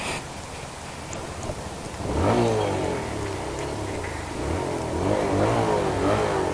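A motorbike engine revs in second gear on a night ride through Hyderabad, its tone rising and falling in two strong surges over steady road and wind noise.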